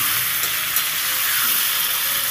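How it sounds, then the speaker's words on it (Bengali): Papaya pieces fry lightly in a pan alongside browned potatoes for a duck egg curry, producing a loud, unbroken hissing sizzle right up close, steady from start to finish with no speech. "পেঁপেটা খুব বেশি আমি ভাজবো না, হালকা ভেজে নেব।"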